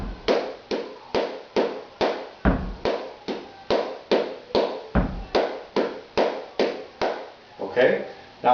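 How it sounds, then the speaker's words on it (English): Flamenco bulerías palmas in a six count: a foot stomp followed by five sharp handclaps, repeated steadily in an even loop, close and loud, each cycle opening with a heavier low thump from the foot. "You start with your foot and 5 claps."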